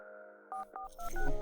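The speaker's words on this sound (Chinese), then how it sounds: "我先打个电话" A telephone call being placed: a steady dial tone, then short bursts of keypad tones and ringing, heard alone without talk, close and clear.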